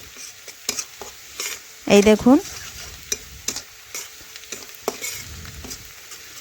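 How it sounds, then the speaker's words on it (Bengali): Onions and red chilli powder sizzle in a frying pan as a spoon scrapes and clacks through them in irregular strokes, with a brief spoken remark near the start. "এটা এখন একটু ভালোভাবে পেঁয়াজের সাথে মিশিয়ে নিচ্ছি।"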